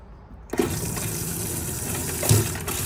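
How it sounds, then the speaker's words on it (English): Water gushes steadily from a tap in a Hyundai i800 Wellhouse camper van, starting abruptly after a short pause and flowing continuously at close range with a brief louder surge near the end. "I've got water on the cold, and I've got water out of the hot."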